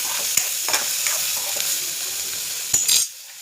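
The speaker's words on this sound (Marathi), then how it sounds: "मिरच्या टाकलेल्या आहेत." Green chillies sizzle and spit in hot oil in a pan. The frying hiss is loud and steady, with a few clicks from stirring, and it cuts off abruptly at the end.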